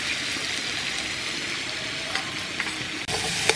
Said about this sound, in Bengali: দু থেকে তিন মিনিট ভালো করে ভেজে নিয়েছি